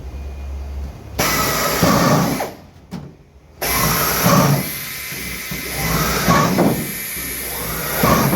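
A small power drill with a 1/8-inch bit whirs loudly in bursts, its high grinding hiss rising and dipping as it bores through a small foam block, with a brief pause midway.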